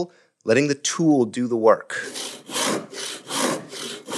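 A hand saw cuts through wood in steady, evenly spaced back-and-forth strokes, close and fairly loud, following a man's speech at the start.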